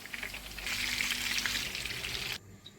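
Gola kebabs fry in a pan, turned from side to side, giving a steady loud sizzle that swells after a moment and then cuts off abruptly near the end.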